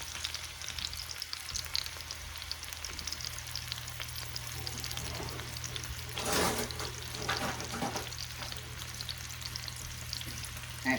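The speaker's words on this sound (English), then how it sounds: "I'm gonna fry with my meat. Sear with my meat." Minced garlic frying with pork tenderloin in a hot pan gives a continuous close sizzle and crackle, with a brief louder burst of spitting midway and occasional scraping stirs, no voices.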